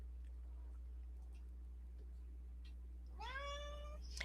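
A cat meows once near the end, a clear rising cry with a few quick following notes, after several seconds of quiet room hum with no talking.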